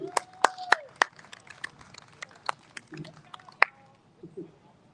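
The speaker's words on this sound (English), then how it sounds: "Round of applause for these two." Audience applause right after a police K9 dog demonstration at an outdoor veterans reunion event: scattered, sparse claps and a few sharp pops over murmuring crowd noise, thinning out toward the end.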